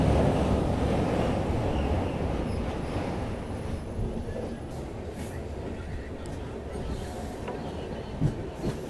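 Mangala Lakshadweep Express rolling into Kannur railway station, a steady, fairly loud rumble of the moving train with wind buffeting throughout, easing slightly over time, with a brief voice near the start.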